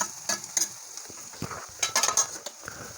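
Onion with ginger-garlic paste frying and being stirred in a pan for dahi masala bhendi, giving soft sizzling with several scraping spoon strokes, close and moderately quiet, no talking.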